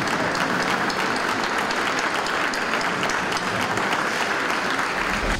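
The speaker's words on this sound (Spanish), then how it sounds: "llegaron los aplausos" Sustained applause from government officials and deputies in a legislative assembly chamber, dense continuous clapping filling the room at steady loudness without speech.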